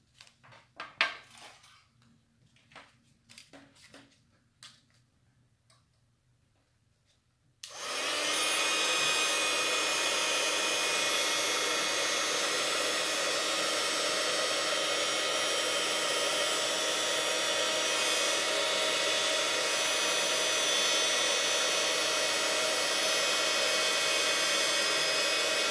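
A heat tool switches on after several quiet seconds of faint handling clicks, then blows hot air in a loud, steady roar onto a Christmas wreath craft for the rest of the stretch.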